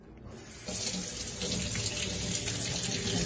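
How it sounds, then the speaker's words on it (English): Tap water runs steadily into a sink while live blue crabs are cleaned of their guts beneath the stream, a continuous close splashing hiss that swells slightly after a brief softer start. "So I'm just going to clean that under the water."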